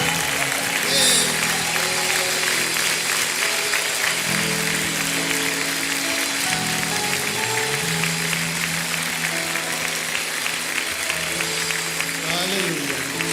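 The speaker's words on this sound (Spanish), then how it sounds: "¿Por qué no le aplaudimos con ganas?" A church congregation applauds after a call to clap during a sermon, a lively continuous clapping mixed with sustained musical tones and voices underneath.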